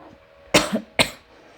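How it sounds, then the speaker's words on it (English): Two sharp coughs close up, one after the other, with a brief pause between them and quiet around them. "Sorry, I have to cough."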